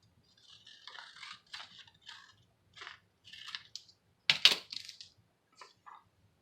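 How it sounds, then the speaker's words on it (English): Scissors cut out a paper sunflower image up close, with a series of quiet, crisp snips and paper rustles in short irregular bursts separated by brief pauses. "So I'm going to cut this close to the edges of the image."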